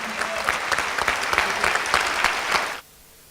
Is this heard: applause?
yes